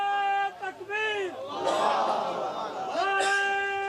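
A crowd at a religious gathering answers the Naara-e-Takbeer slogan with a loud, unified shouted chant, following a leader's drawn-out call, the massed voices swelling and repeating.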